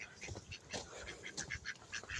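A Muscovy duck gives several short, raspy calls, faint and quick in succession.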